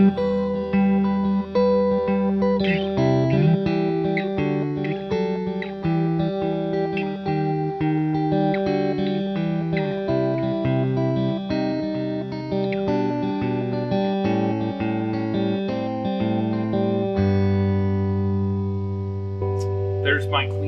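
Clean electric guitar played through a PedalPCB Pharmacist DIY pedal: sustained chords and melodic notes, near and full, steady loudness throughout with no voices.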